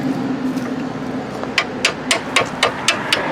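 A hammer strikes a rusted control arm part on a 2011 Hyundai Elantra Touring in a series of about seven sharp metallic blows, roughly evenly spaced, over a low workshop hum.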